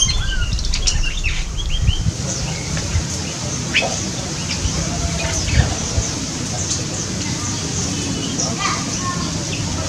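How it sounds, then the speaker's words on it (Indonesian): Streak-eared bulbuls flutter and call in a noisy setting with a dense mix of flapping wings, short squawks and chirps, set against constant background chatter that sounds like children playing. "Burung merbah belukar ini adalah satu dari beberapa spesies burung merbah yang ada di Indonesia."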